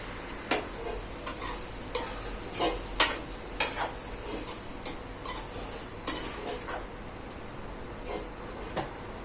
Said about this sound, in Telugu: ఇలా వీడియోలో చూపిస్తున్నట్టు టమాటాలని బాగా పిసుక్కొని మధ్యలో వేసుకోవాలి